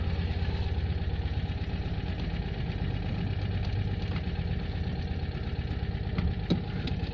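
A Citroen 2CV engine, just overhauled, idles steadily and strongly with its throttle left unconnected, a continuous near chugging tick-over running alone throughout.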